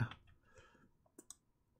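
A single light key click on a computer keyboard while working in Blender, a short crisp tick followed by a second faint click in a quiet room.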